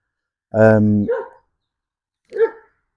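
A dog gives a loud, close bark with a harsh sustained tone, followed by a softer short yip and, after a pause, another brief bark, in quiet surroundings.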